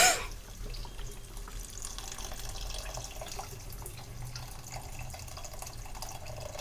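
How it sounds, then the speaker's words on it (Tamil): Water pours steadily into a cooking pot in a continuous splashing stream, close by, with a brief clatter at the start and no talking. "இதை நல்லா கிளறிட்டு நம்ம இதுக்கு தேவையான அளவு தண்ணி ஊற்றணும்"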